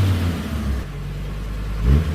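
A Volkswagen T4 van's 2.5-litre turbocharged engine revs loudly up close, holding a steady throaty drone before a brief rising blip near the end.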